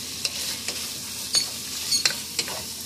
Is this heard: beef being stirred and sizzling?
yes